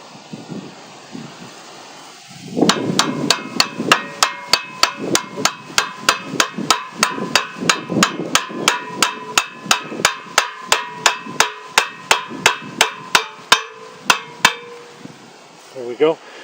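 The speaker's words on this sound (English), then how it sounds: "I'll just tap the axle from the other side a little bit, give us a little more room." Hammer tapping the axle and bearing on a homemade three-point cultipacker: about thirty sharp metallic strikes in a quick, steady rhythm, close and loud, over faint wind noise.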